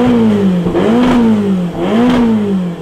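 A Beta RR 50 moped with a modified exhaust revs loudly and close by, in two rising and falling blasts of a two-stroke buzz that stay strong throughout.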